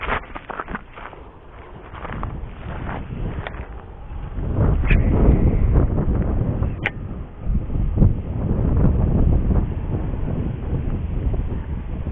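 Wind gusts across a natural pond while someone fishes for snakehead with a soft frog lure, buffeting the microphone in a steady, rumbling roar that swells louder midway, with a few faint clicks.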